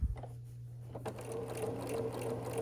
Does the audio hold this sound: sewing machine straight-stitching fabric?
yes